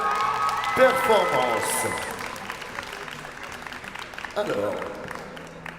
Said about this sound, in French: Applaudissez-la bien fort pour ces deux très belles